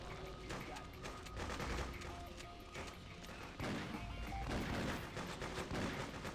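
Rapid bursts of gunfire from the Freedom Fighters video game crackle almost continuously, dense overlapping shots rising and falling in intensity, loud and close, with occasional heavier impacts.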